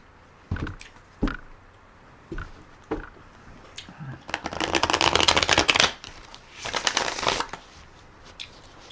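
Tarot cards are handled: a few sharp snaps of cards laid down, then two bursts of riffle shuffling, close and crisp, with brief pauses between.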